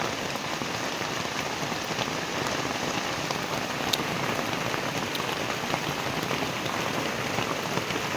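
Steady rain falls on surfaces in a continuous dense patter, close and even throughout with no talking.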